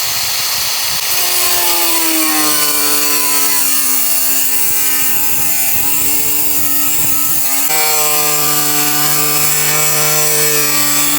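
An angle grinder cutting iron during a camper build, a loud, close, sustained whine with shifting pitch as it bites, briefly dipping before resuming strongly.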